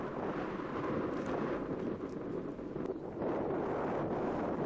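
Crosswind gusts across an open disc golf course, a continuous loud buffeting rumble and hiss against the microphone, swelling and easing over a few seconds.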